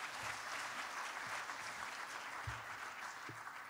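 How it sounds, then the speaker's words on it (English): A conference audience at a mountain resorts event gives a steady round of applause for the speakers, a dense continuous clatter of many hands with a few low thumps beneath. "please give Director Terzi Basoglu and all of the speakers another big round of applause"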